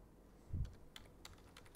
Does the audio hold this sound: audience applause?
no